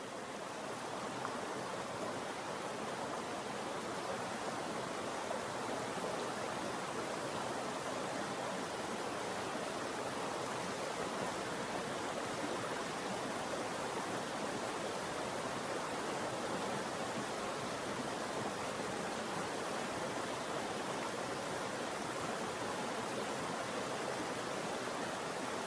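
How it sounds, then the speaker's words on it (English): Chittenango Creek flows in a continuous, even wash of rushing water, heard up close and alone with no voices over it. "Chittenango Creek bloops."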